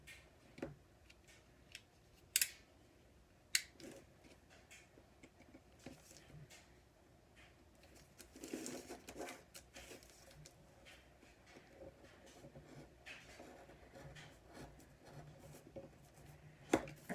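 Scissors snipping through craft material on a table at a quiet craft session, soft irregular clicks and rustles with a few sharper snaps, faint and close.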